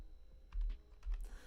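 Computer keyboard typing in two quick clusters of clicking keystrokes, close and clear, separated by a brief pause, with no voices.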